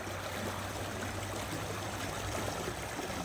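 Meltwater flows and trickles in a steady, soft wash while someone walks through it, a faint continuous stream with no voices.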